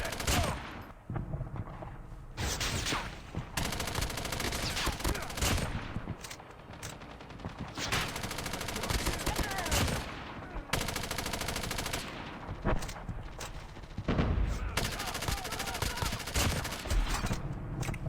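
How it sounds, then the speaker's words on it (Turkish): Sustained automatic weapon spray in Call of Duty Mobile, loud rapid bursts of gunfire running almost nonstop with brief gaps between volleys. "Rastgele random sıkıyorum ya resmen"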